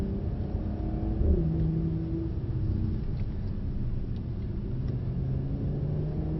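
A Mercedes car engine runs with a steady mid-low rumble and a brief rise in revs near the start, then holds an even drone, fairly close, with no talking.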